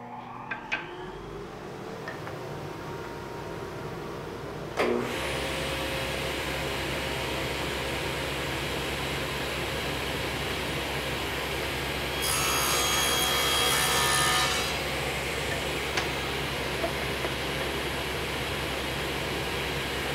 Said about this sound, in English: I think we're ready to cut.